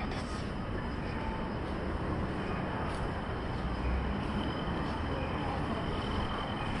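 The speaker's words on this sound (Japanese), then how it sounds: "チンチン電車がね来ています。" A low rumbling streetcar rolls steadily past at moderate distance in the Susukino entertainment district, with faint squeals and hiss over a constant background drone.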